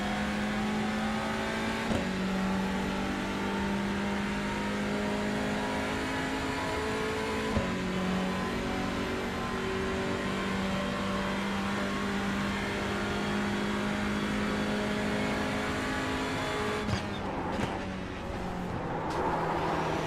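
Race car engine in the Le Mans Ultimate or iRacing sim, a loud constant high whine that climbs through the gears with short dips at each shift, then a rougher tail near the end, no voice.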